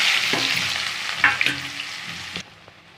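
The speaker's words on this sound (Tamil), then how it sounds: "இப்போ எண்ணெய் ஊற்றிக்கோங்க கடுகு ஒரு கரண்டி போட்டுக்கோங்க இப்போ சோம்பு பட்டை போட்டுக்கோங்க வெங்காயம் போட்டுக்கோங்க" Onion frying in hot oil with mustard seeds, fennel and cinnamon for a potato and pea kurma, a steady close hiss of sizzling broken by a few stirring scrapes, then quieting near the end.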